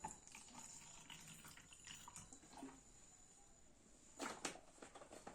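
Drinking water runs and splashes steadily from a tap or pitcher into a container for a home demonstration of an acidity remedy, a continuous watery trickle with a louder burst of pouring near the end.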